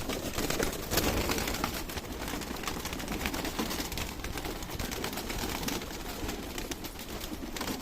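A flock of desi Giribaz pigeons coos steadily in a loft around feeding time, a dense, continuous murmur of overlapping calls with soft rustling and no talking.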